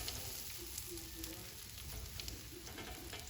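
Sour cream pancakes, just flipped, sizzle in a pan over a lowered flame. The frying is a faint, steady hiss with light crackles throughout.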